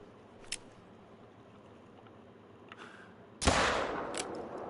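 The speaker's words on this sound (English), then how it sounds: "Let's shoot him to see with the rhino pistol." A rhino pistol fires once in a hunting video game, a sudden loud close blast with a short decaying tail, preceded by quieter ambient outdoor noise and a faint earlier click.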